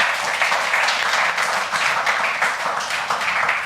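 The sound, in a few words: audience clapping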